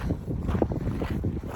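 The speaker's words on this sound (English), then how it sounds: "Sorry about the wind, by the way." Gusting wind buffets the microphone on a lava field on Kilauea volcano, a loud, rumbling low roar throughout the short moment.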